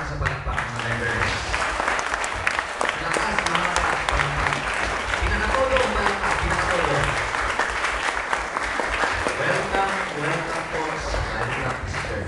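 Church members at a choir service applaud visitors in a sustained, dense round of clapping from a crowd, steady and fairly loud throughout.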